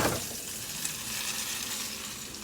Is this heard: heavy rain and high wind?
no